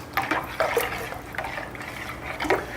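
Salt being stirred into hot water in a pot to dissolve it for a pastrami brine, a soft continuous sloshing and swirling of liquid with faint spoon scrapes, close and steady with no talk.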